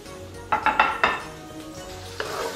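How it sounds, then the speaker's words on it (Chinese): Sliced roast pork hits hot oil in a wok with a few clattering clanks of utensil on metal, followed by a low, steady sizzle of frying. "起锅热油， 然后把切好的烧肉倒进去"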